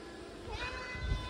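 A cat meows once, drawn out, at close range indoors while fans hum steadily in the background of a room housing a GPU mining rig.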